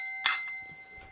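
A bell is struck once to call pet cats to their food, a bright ringing tone that decays over about a quarter second, heard close and alone in a quiet room.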